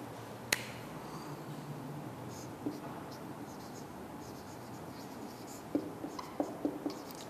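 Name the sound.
writing equations in matrix form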